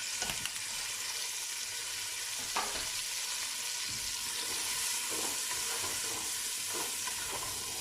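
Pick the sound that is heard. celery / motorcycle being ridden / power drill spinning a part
celery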